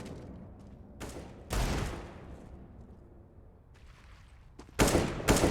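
AK rifle gunfire in the video game Counter-Strike, with sharp bursts and single shots coming in irregular clusters, some loud and near, others quieter, over faint background game noise.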